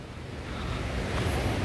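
Surf rumbles and washes in close by at the Seonnyeotang natural rock pool in Seogwipo, Jeju, building slightly in loudness, with some wind buffeting the microphone.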